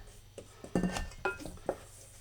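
Soft brown sugar clumps mashed against the side of a pot with a utensil while making apple and sultana crumble, giving a few scattered scraping clinks and taps, close and fairly quiet, with sharper knocks near the middle and the end.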